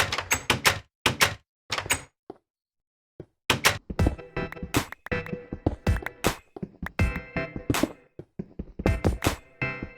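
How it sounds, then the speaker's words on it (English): Repeated blocky thunks of a wooden door opening and closing in Minecraft Alpha, loud and close in rapid bursts with one short silent gap, and no speech. "We got the old door sound."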